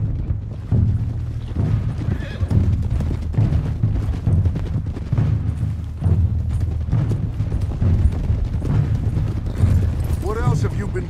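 Several horses gallop in Red Dead Redemption 2, a steady rhythmic thudding of hooves beneath loud, dense game sound, with voices speaking over it.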